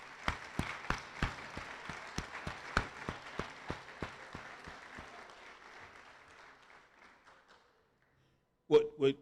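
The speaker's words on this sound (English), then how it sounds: "let's give our coaches a round of applause if we could do that" Crowd at a high school spring athletics awards ceremony claps for the coaching staff: distinct, fairly steady individual claps that thin out and fade to silence, followed by a brief voice at the end.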